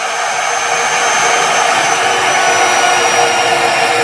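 CNC spindle motor on an advanced Gecko G540 setup with dual relays for forward and reverse rotation, running at speed in forward direction: a loud, steady high-pitched whine and whir that holds constant throughout with no talk.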